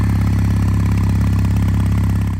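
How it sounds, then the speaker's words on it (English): Kawasaki W800 motorcycle engine with pea-shooter exhaust pipes and bevel drive, a steady close idle with an even low-pitched exhaust pulse and light mechanical clatter, loud and continuous with no voices. "The pea-shooter exhaust pipes create a distinctive, mellow exhaust note"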